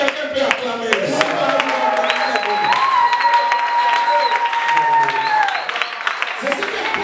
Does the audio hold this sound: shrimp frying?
no